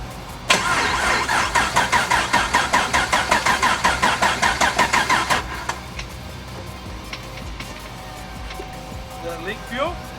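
Turbocharged Camaro engine cranking over with a fast, rhythmic starter chatter for about five seconds, then catching and dropping to a rougher, quieter idle with small revs near the end; voices talk alongside.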